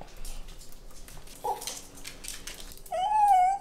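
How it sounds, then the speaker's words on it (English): A dog whimpers and cries close up: a short whine early on, then a longer, louder high-pitched cry at the end. "it won't be as enjoyable for you to hear his cries and heavy breathing very close up"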